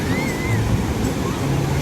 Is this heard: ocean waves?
yes